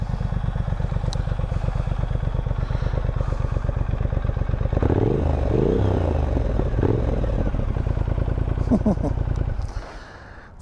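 A 2023 Triumph Speed Twin 1200 parallel-twin motorcycle engine runs with a steady, throbbing idle close by, swelling briefly in the middle before cutting off near the end, with a voice talking over it.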